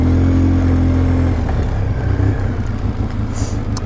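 A 2012 Polaris Sportsman 800 EFI ATV engine during a test drive: a loud, close engine drone with a strong low hum that drops off after the throttle is released, leaving softer freewheeling rumble and wind.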